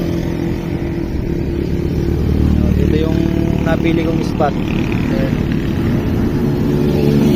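Vehicles pass along a highway roadside, including motorcycles, as a steady loud engine and road roar with swells of passing traffic under someone speaking throughout.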